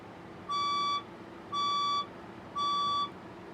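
A building fire alarm sounds three evenly spaced, steady electronic beeps, each about half a second long, loud and clear over a quiet hum.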